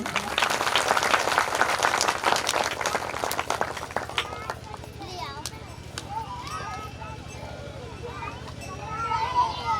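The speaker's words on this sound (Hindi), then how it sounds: "जोरदार ताली लगाएं।" Audience clapping at a village farewell ceremony, loud and dense at first, then fading out as a voice begins speaking and continues over the quieter room.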